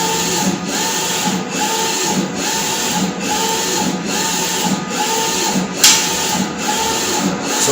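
PL 1.8 eco-solvent printer printing onto rolled material, a steady mechanical whir with a regular repeating pulse as the print head sweeps back and forth, close and loud, with one sharper click near the end.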